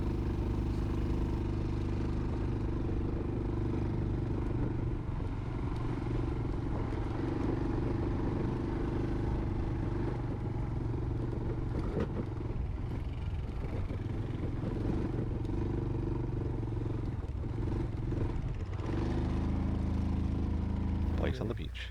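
A motorcycle ridden through beach sand, its engine droning steadily up close with shifting load and occasional clatter, under a voice talking for much of the time.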